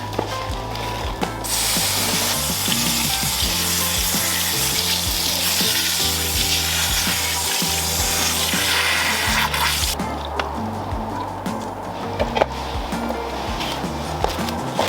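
Water runs steadily from a tap while pig ears are rubbed and washed under it, then the flow stops and faint clattering remains.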